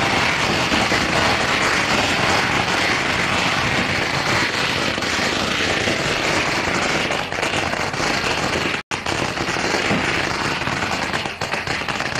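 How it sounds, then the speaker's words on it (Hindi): Long, dense bursts of gunfire from guns and machine guns, a continuous loud crackle of rapid shots with almost no gaps, heard at close range with no talk over it. "वहां गन लेकर कई घंटों तक कारतूसों को और फायर करते रहे, उड़ाते रहे"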